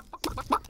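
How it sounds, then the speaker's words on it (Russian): Chicken clucking in a cartoon set in a small fairy kingdom, several short bright clucks in quick succession, close and fairly loud with no talk over them. "Курицы вовсе не кажутся опасными."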